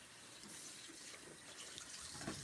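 Tap water runs steadily into a sink in a home kitchen while soap-making supplies are prepared, a continuous close splashing rush with no voices.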